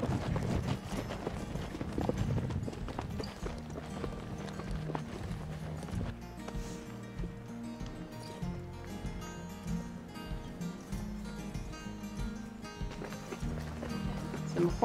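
Hooves of two horses and a pack mule clip-clop on the Colorado Trail, a steady walking rhythm close by, with a voice briefly talking over the trail noise.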